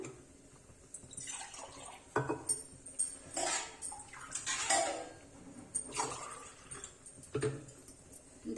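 Water from a glass pours into a pot of rice for vegetable pulao, splashing in a few separate bursts with light clinks of the vessel, close but soft, with no speech.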